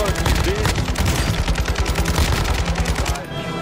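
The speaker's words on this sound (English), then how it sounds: "Whoa, you're getting shot!" Rapid automatic gunfire in Warzone 2 DMZ, a dense run of loud, close shots rattling steadily for several seconds with brief gaps, a voice faintly talking underneath.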